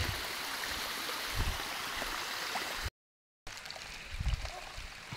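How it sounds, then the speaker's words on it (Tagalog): A river flows and gurgles along a steep mountain trail, a steady near rush of water with small splashes, cut by a brief silent gap midway. "ayan na yung ilog"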